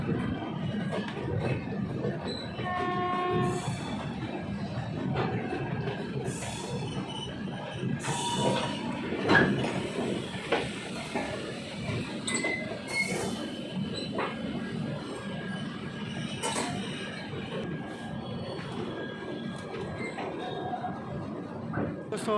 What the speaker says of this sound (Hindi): train is arriving at Najibabad junction